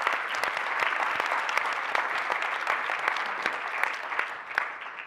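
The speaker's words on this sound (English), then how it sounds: "please join me in giving them a warm round of applause" A large audience at a Silicon Valley leaders gathering applauds warmly, a dense, steady wash of many hands clapping that holds evenly for the full stretch without any voices on top.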